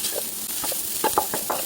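Fennel seeds and onion sauté in a pan over low, steady sizzling, with a few soft scrapes and stirring clinks scattered through. No one speaks.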